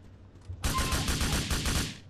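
Rapid automatic gunfire in the video game GTA, a dense burst of about a dozen loud, evenly spaced shots lasting over a second after a brief quiet lead-in.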